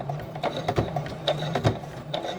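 A home sewing machine slowly stitches thin paper journal signatures into a fabric spine, giving a steady, close mechanical whir with evenly spaced clicking pulses from the needle.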